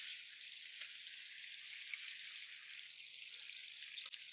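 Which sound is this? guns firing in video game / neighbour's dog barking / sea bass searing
sea bass searing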